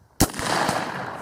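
Gunshots fired at a steel target on a shooting range: a sharp, loud report followed by a dense, ringing burst of further shots and impacts, close and alone with no talk.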